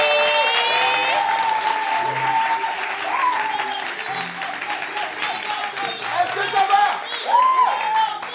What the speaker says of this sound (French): nous allons inviter ici, sous les acclamations de ce charmant public